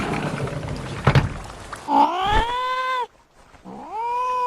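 A cartoon cat gives long, loud, wailing meows and caterwauls, preceded by a thump, with a short silent gap between the drawn-out cries and no talking.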